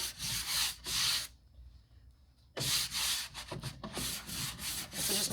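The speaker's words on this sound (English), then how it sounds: "I'm going to go ahead and apply my wax all over there" Clear wax is rubbed by hand onto chalk-painted wooden furniture in loud, close back-and-forth strokes that come in bursts, with a quiet pause in the middle and no voices.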